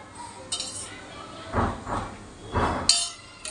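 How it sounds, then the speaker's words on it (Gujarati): A wire whisk stirs sour buttermilk, water and curd in a bowl for Gujarati kadhi. It gives a few close, rhythmic bursts of clinking and scraping, with no talking. "વિસ્કરની મદદથી હલાવી દઈશું"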